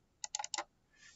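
Quick, faint clicks of a computer keyboard as a few keys are typed into an Excel formula, five or so light keystrokes in a short burst in a quiet room.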